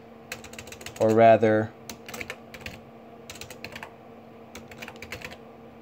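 Keys clatter on a computer keyboard in quick irregular bursts, fairly close and moderately loud, with a short stretch of someone talking between the typing.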